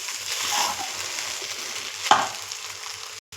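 Cooked rice being stirred and tossed in a hot pan for garlic pepper rice, giving a steady close sizzle with soft scraping and one sharper clink of the utensil.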